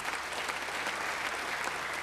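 Church congregation applauding a person during a sermon, a continuous, even roar of many hands clapping throughout, moderately loud and without speech.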